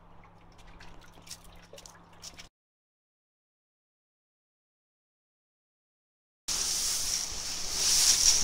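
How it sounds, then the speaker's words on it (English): Water is poured into the cone of a seed drill hopper holding legume seed for peat inoculant treatment: a brief, fairly loud splashing pour starts abruptly after a silent gap and keeps building to the end. "So we're adding a small amount of water."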